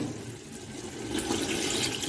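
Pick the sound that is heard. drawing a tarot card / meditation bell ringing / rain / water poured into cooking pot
water poured into cooking pot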